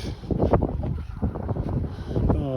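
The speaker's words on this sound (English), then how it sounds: "Ooh, wind, that's nasty." Wind gusts buffet a microphone outdoors in winter in Ogdensburg, New York, producing a loud, continuous low rumble and roar across the whole moment.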